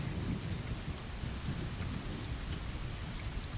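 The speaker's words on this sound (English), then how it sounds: "Washed away in the rain." Steady heavy rain hisses with a deep rumble of thunder underneath in a storm scene from the video game Stray, dense and continuous with no voices.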